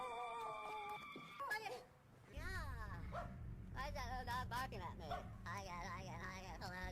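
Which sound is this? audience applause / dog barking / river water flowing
dog barking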